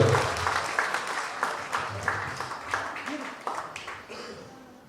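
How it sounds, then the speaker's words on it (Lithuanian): Applause at an award ceremony for a youth motorsport club's 50 and 65 cc classes, a crowd clapping in steady bursts that fade toward the end as an announcer speaks over it. "Jūsų aplodismentai Mykolui Barakauskui."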